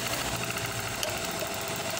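A Brother LH4-81 manual buttonhole sewing machine running steadily, a dense, continuous mechanical whir and rattle at close range with no pauses.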